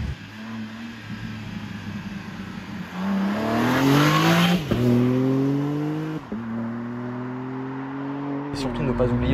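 A BMW M3 Touring engine revs up with rising pitch, drops briefly, then revs again in repeated climbs, loud and close, with a person talking over it.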